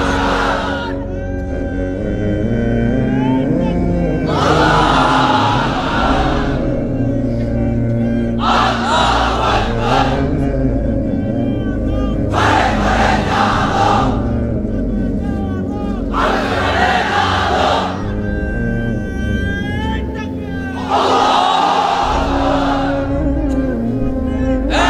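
A large crowd at a religious gathering roars the takbir slogan in repeated loud collective bursts, several waves of massed voices rising and falling over a continuous background hum.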